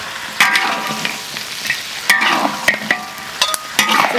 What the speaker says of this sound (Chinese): 这个要炒一会儿让它这样炒一会儿。